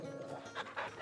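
Dog panting in the game Final Fantasy XVI, a few quick close breathy pants over a low background murmur.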